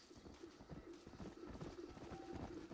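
Horse hooves clip-clop in a steady, rhythmic patter in the Red Dead Redemption: Undead Nightmare video game, quiet and fairly close, with faint ambient game sounds around them.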